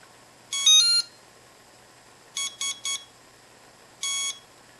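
A brushless motor's electronic speed controller gives startup beeps on power-up: a longer two-part tone, then three quick beeps, then one more tone, clear and close against a faint hum with no talk.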